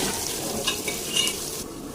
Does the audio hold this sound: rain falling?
no